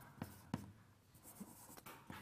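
Chalk or marker writing on a board during a university mathematics lecture, with a few faint, sharp taps and short scratchy strokes spaced irregularly in a quiet room.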